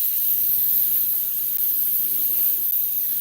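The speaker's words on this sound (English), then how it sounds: "Now it's spraying like I wanted it to." An outdoor sprayer gives a steady, even hiss of spray, continuous and close, with no pauses.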